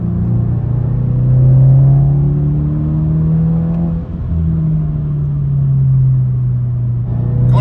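A 2022-2023 Subaru WRX fitted with a Noble STI-style duckbill accelerates uphill, its engine holding a loud, steady droning rumble from inside the car that rises slightly in pitch, dips briefly and continues.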